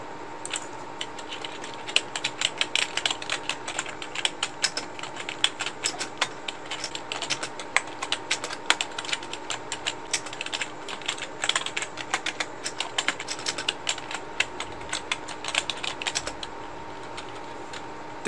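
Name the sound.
typing on a computer keyboard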